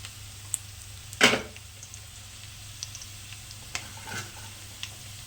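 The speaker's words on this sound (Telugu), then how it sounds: "ముందుగా ఆనియన్స్ ఆయిల్ వేసుకొని ఆవాలు వేసుకొని తర్వాత ఆనియన్స్ వేసుకొని కొత్తిమీర వేసుకొని బాగా బ్రౌన్ కలర్లో వచ్చేలాగా వేసుకోవాలి" Onions, mustard seeds and coriander frying in oil, a soft continuous sizzle with occasional sharp pops and one louder stir or scrape, close and quiet.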